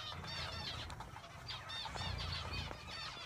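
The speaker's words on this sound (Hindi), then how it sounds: "तमाम चिड़ियाँ नीचे आ गई हैं ऊपर से" Many small birds chirp and twitter busily together at close range while eating scattered grain, a dense overlapping chatter with occasional low thumps underneath.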